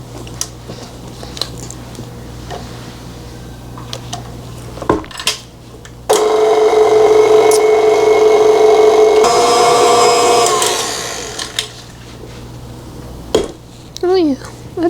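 An electric mixer with a whisk attachment beats sweet potato cupcake frosting. It gives a loud, steady whine for about five seconds, framed by bowl and utensil clatter and some talking.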